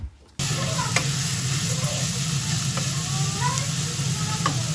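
Ground meat fries with carrots, onions and potato in a pan, a steady close sizzle with occasional spoon scrapes and stirring clatter running throughout.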